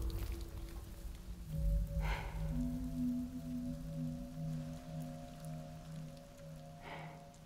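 Rain falls steadily in the video game Death Stranding, a soft constant patter beneath low droning tones and sustained ambient music, with a couple of brief louder splashes.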